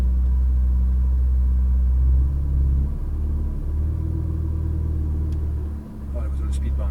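Ferrari 488 GTB idling and rolling slowly over a speed bump in Las Vegas, a steady close low engine rumble with a brief dip as the car rides over the bump, voices talking over it.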